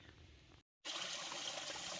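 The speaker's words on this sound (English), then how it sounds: "This is one of the waterfall areas as a water source." Water pours steadily at a waterfall used as a water source along the Appalachian Trail, a dense, constant rush that cuts out briefly and then returns louder.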